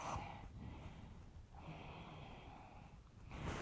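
Slow, deep breaths during a yoga class, heard as soft, breathy inhales and exhales in a quiet room, several airy swells rising and falling at close range without speech.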